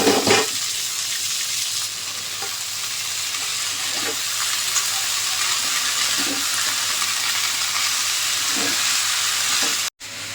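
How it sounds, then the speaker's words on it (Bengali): Onion and red amaranth greens frying in hot oil in a pan, a loud steady sizzle running throughout with a few brief stirring scrapes. "এবার পেঁয়াজটা আর শাকটা দিয়ে দেবো। আজকে প্লেন শাক ভাজা করছি"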